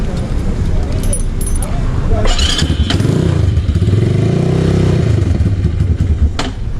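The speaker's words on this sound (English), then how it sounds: "Start your bike and test it" A motorcycle started up on the roadside to test a newly changed clutch cable, its engine running as a steady close rumble with a few clattering knocks and a brief rev near the start.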